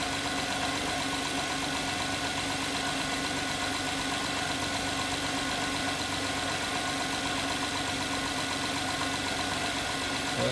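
A 2011 Honda Pilot engine idling, a steady, even mid-pitched hum with constant vibration and no voices, heard close up.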